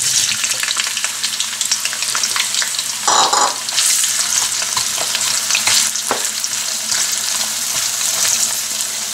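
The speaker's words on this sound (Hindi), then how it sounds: "मैं सबसे पहले यहाँ जो ये प्याज है इसको फ्राई करूंगी" Chopped onions sizzle and crackle steadily in hot oil in a pan for karela gosht, a dense continuous fry with a brief louder hiss and stirring clatter near the start, no voices.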